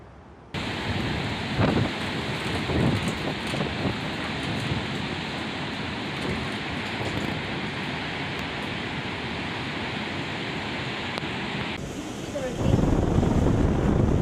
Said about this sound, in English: Oh, it's about to get a lot windier, I think.